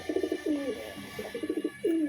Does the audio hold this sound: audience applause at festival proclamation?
no